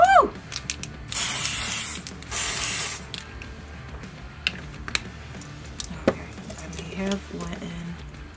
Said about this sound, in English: But I'm gonna spray a little bit of this and I wanna see